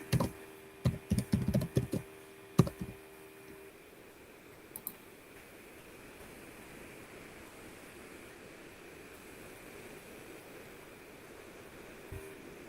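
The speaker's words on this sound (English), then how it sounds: "The one I'm typing." Computer keyboard typing while writing R code, a quick burst of close key clicks at the start and a few scattered taps later, over a quiet hissing room background with no talking.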